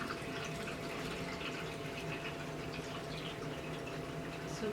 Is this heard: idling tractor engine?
no